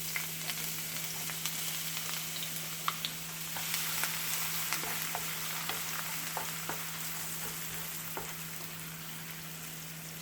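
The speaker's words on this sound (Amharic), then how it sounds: "እንደ እንቁላል ፍርፍር ሽንኩርቴን ትንሽ ጠብሰዋለሁ" Onions frying in oil in a pan, an even close hiss of sizzling with light crackles and occasional stirring scrapes, steady throughout over a low constant hum.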